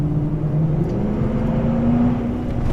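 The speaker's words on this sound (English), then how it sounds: "And the traction control kicking in." A 2016 Dodge Challenger V8 drones steadily and close up, its engine tone wavering slightly as traction control cuts in, a continuous loud mechanical hum with no voices.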